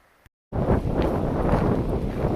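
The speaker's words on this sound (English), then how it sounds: "the wind's picking up" Strong wind on the Loyalsock Trail roars and buffets the microphone after a brief silence, a steady loud rush that lasts to the end.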